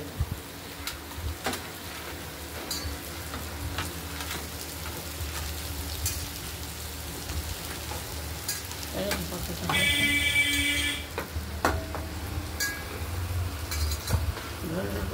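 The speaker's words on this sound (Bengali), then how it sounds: "উচ্ছে কুমড়ো ভাজা চলছে।" Steady sizzling of bitter gourd and pumpkin frying in a pan, with occasional stirring clatter and a brief brighter hiss partway through.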